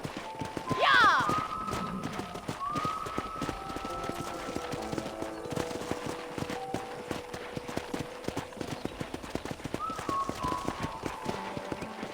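Rhythmic hoofbeats clip-clop steadily throughout in Red Dead Redemption, with a brief horse whinny near the start and a faint melodic tone drifting over the trotting.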